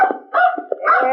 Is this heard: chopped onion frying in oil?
no